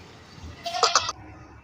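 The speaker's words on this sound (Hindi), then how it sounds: "ये एक अदद बकरी है" A young two-tooth goat at a goat market in New Karachi gives one short, close bleat over quiet background murmur.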